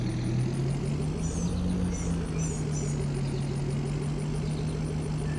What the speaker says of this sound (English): The old Kubota pickup.